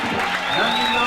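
A church congregation claps and cheers for Jesus in a short, dense burst of applause, with a sustained musical tone ringing over the crowd noise.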